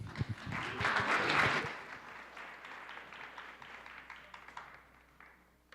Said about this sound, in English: One more round of applause, too.